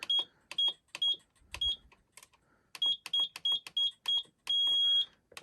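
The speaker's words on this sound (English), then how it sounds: "it will make a long beep, so you know that you've finished that row" A knitting machine gives a string of short electronic beeps in a steady rhythm, then a single longer beep marking the end of a row, with soft clicking between.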